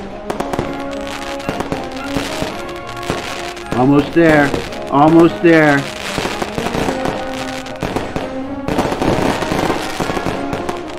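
Fireworks and firecracker bursts crackle and pop through a patriotic flip-book doodle animation, with a loud cluster of whistling, sweeping bursts in the middle, while a person talks over the effects.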